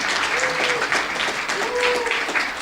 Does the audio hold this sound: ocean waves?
no